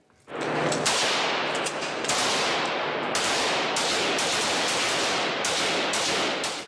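Rapid bursts of gunfire crack repeatedly at a shooting range over a constant roar of noise, loud and close, with brief gaps between volleys.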